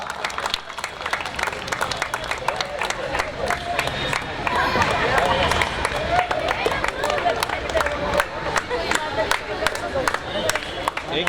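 Crowd cheers and claps at a women's wheelchair basketball award ceremony as a player is named best free throw shooter, a steady sustained roar with scattered sharp claps throughout, voices mixed in.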